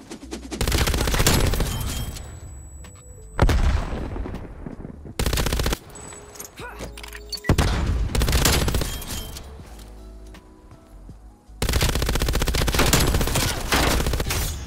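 An MG 82 light machine gun in Black Ops Cold War fires in several long, loud automatic bursts, sharp rapid reports separated by short pauses with quieter in-game ambience between.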